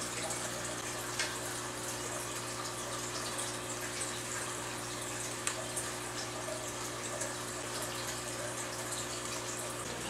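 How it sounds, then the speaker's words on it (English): Aquarium water trickles slowly through airline tubing into a container for acclimating fish, a soft continuous gurgling flow with faint drips, steady and quiet throughout. "I'm going to siphon some of this water slowly into this water"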